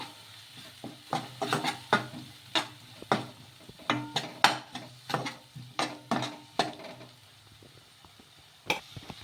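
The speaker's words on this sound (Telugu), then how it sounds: "కారం వేసుకొని ఒకసారి మళ్ళీ బాగా కలిపేసుకున్నాము" Chili powder is stirred into softened tomato in a pan, with repeated scraping strokes in an uneven rhythm over a faint sizzle, close by and without talk.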